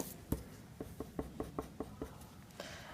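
A physics equation handwritten on a surface, heard as a quiet run of about ten short, evenly spaced taps and strokes, close and faint.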